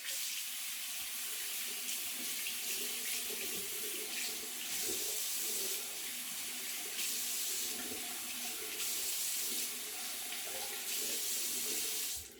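Water running steadily from a tap into a sink during rinsing, a continuous hissing splash that stays at an even, close level for the whole stretch and has no talking over it.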